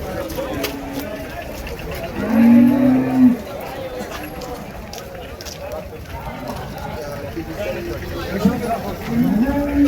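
Cattle, including large Andhra-bred bulls, at the Vaniyambadi livestock market, with several low moos rising over constant crowd chatter and a busy open-air hubbub.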